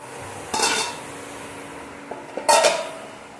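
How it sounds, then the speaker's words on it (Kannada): A plate set down over a cooking pot of avarekalu sagu as a lid gives two sharp ceramic-on-metal clatters with ringing tones, the first short and the second louder with a brief resonant ring, in a quiet kitchen. "ಇವಾಗ ಒಂದು ಪ್ಲೇಟ್ ಮುಚ್ಚಿ ಒಂದು 10 ನಿಮಿಷ ಚೆನ್ನಾಗಿ ಬೇಯಿಸ್ಕೊಳ್ಳೋಣ"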